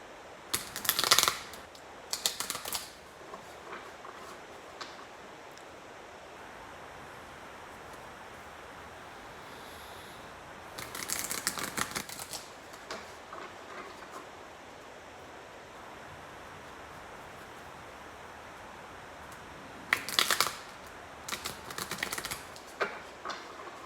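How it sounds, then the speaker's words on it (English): Tarot cards shuffled by hand in three short bursts of riffling and flicking, close and fairly loud, with quiet hiss between them and no talking. "So as I'm shuffling the cards,"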